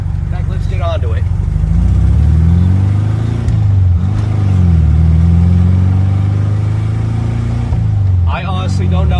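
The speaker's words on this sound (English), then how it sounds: "as I'm revving it right here, sounds good coming from the back exhaust" A 1976 Volkswagen Super Beetle engine revs from the rear exhaust, its pitch climbing and dropping in several sustained pulls, loud and close, with brief voices at the start and end.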